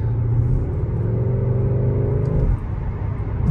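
Skoda car from the VAG group, a 2021 model, with its engine note boosted in sport mode: a steady, loud low rumble with a sustained droning tone that drops away abruptly near the end.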